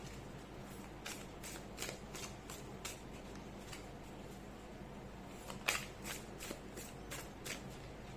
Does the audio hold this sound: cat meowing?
no